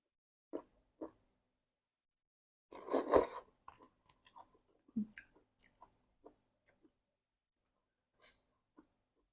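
Close, wet chewing and crunching of a Thai papaya salad made with gooseneck barnacles, coming in short separated bites with quiet pauses between them.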